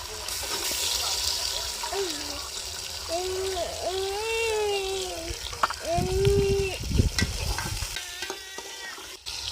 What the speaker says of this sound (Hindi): प्याज होना से चंगी तरह भून लेने हैं, ਅਸੀਂ ਪਾਣੀ ਦੇ ਪਾਣੀ। ये हम अब इसके अंदर गोश्त डालेंगे।